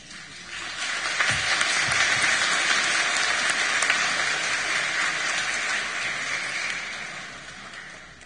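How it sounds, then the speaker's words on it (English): A room full of people at a bilingual Easter Vigil Mass in a church applauds, steady clapping that swells quickly, holds for several seconds, then fades out. "We'll be applauding a lot."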